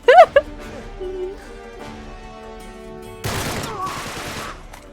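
Gunfire in the video game Uncharted 3 bursts out as a rapid fusillade after a few sharp electronic blips and a stretch of quiet tonal game sound, loud and dense in the final seconds.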